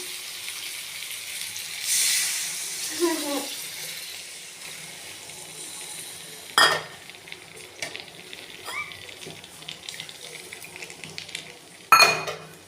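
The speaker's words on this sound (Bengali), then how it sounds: "এতে আমি জল দিয়ে দিচ্ছি" A sharp hissing burst as water is poured into a pan of food that has been frying for about ten minutes, followed by quieter sizzling and a few light metallic knocks.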